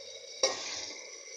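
Red and green chillies dropped into a hot frying pan for a no-onion, no-tomato cauliflower (gobi) dish, a sudden loud hiss that settles into steady close sizzling, no talk.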